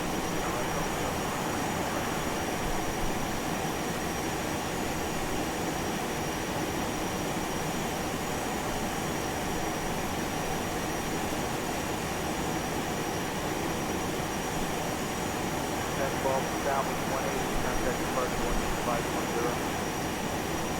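A FlyJSim 737-200 airliner taking off in X-Plane 11, a steady broad engine roar with a high whine holding level throughout, loud and unbroken, with no voices.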